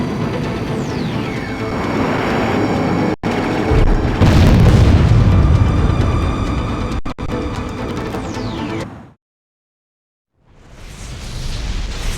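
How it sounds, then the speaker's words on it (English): A massive fortress explosion in the Ace Combat X video game: a loud, sustained booming blast with deep rumble and crackling debris that cuts to silence, then swells back as roaring aftermath. "The fortress has really been destroyed!"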